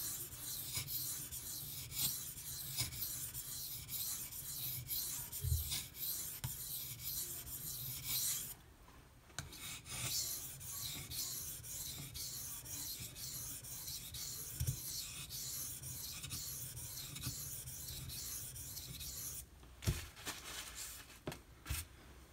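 A knife blade is drawn steadily back and forth across a smooth 1200 grit silicon carbide sharpening stone, making a continuous soft gritty rasp with brief pauses, close and quiet.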